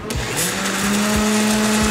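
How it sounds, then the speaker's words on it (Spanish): A blender whirs loudly and steadily, pureeing raw cannabis with lulo, cucumber and aloe vera juice, its motor tone holding constant with faint rhythmic thumps of the contents churning. "Vamos a licuarlo, no hay necesidad de licuar demasiado."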